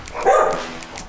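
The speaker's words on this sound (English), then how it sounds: "Benji the Bernadoodle might be an international master of fetch" A Bernedoodle gives one short bark up close, followed by quieter faint sounds with no talk over them.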